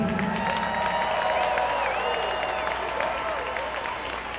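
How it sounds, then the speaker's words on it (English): A crowd at an Island Fights mixed martial arts event applauds both fighters after a three-round bout, a steady, dense wash of clapping and cheering that holds for several seconds with faint tonal sounds underneath. "can I get a round of applause for both these guys?"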